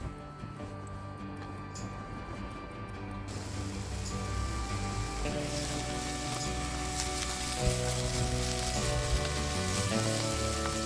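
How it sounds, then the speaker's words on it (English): Meatballs frying in a pan on a Trangia Mini camping stove, a quieter hiss at first that swells into a loud, sustained, crackling sizzle, with a steady hum running beneath. "let's get the pan on to heat up and let's get the meatballs in"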